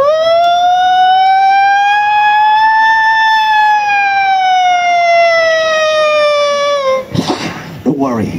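At a street performance at Darling Harbour, a beatboxer's voice imitates a police siren with a loud, sustained, slowly rising and falling wail lasting about seven seconds, followed by short percussive vocal bursts.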